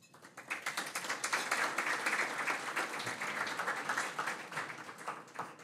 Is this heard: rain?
no